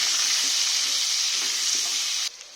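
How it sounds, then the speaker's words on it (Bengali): Papaya and potato pieces with turmeric and salt fry in oil in a pan, producing a loud, even close sizzle that cuts off abruptly near the end. "আমার পেঁপে আর আলুটা একদম লাল লাল করে ভাজা হয়ে গেছে"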